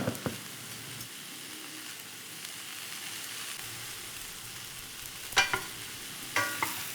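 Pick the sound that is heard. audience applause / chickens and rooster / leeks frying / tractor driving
leeks frying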